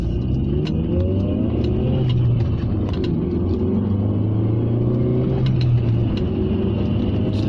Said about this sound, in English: you put your foot down, it really does pick up